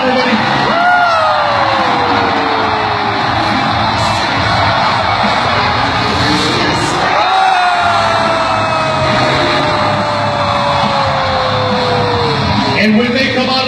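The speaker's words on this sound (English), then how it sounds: "I want you guys to make some noise for the Freestyle Motocross Riders." Arena crowd at a Monster Jam freestyle motocross show cheers and yells in a loud, continuous roar, with long drawn-out shouts rising above the din.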